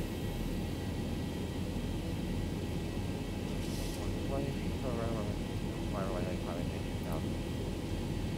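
Steady, loud roar of airliner jet engines during a go-around in X-Plane 11, a continuous broadband rumble with faint radio voices talking over it.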